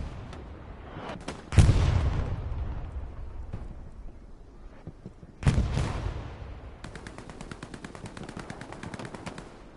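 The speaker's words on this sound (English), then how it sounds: "Artillery starting to come down for the Allies now as well." An artillery barrage in Hell Let Loose: two heavy booming impacts a few seconds apart over a crackle of distant gunfire, followed by rapid, steady machine-gun bursts.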